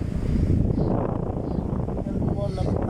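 A modified Golden Eagle 10-inch electric floor fan blows a strong, steady rush of air into the microphone, buffeting noise close and continuous while a person talks over it.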